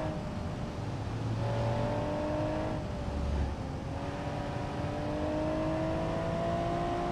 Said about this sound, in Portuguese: tô andando aqui com o carro rápido, né? Já botei a nossa terceira aqui.